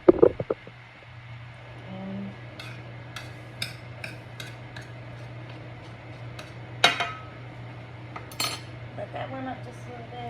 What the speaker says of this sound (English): Stir my beans, make sure they're not sticking.